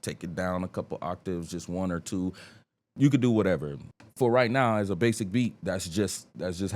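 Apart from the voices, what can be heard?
No everyday noises stand out.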